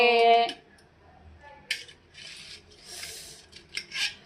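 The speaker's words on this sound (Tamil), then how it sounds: "இப்போ வந்து இந்த கத்தியிலே ஒரு வெட்டி பார்க்கலாம்" A knife slicing through a warm homemade brownie, with a few short soft rasping cuts, close and fairly quiet, after a brief louder sound at the start.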